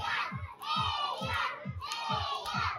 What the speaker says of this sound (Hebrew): וואו, זה עידוד, אני אומר, זה עידוד.